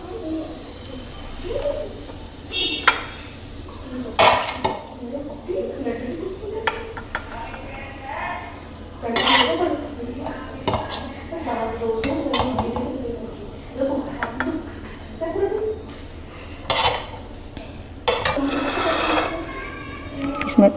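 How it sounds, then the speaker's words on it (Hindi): Masala pasta scooped from a cooking pan into a serving bowl in a home kitchen, with scattered clinks and scrapes of a spoon against cookware, amid faint background voice and cooing birds. "अब हम इनको सर्विंग बाउल में डालते हैं इस तरह से।"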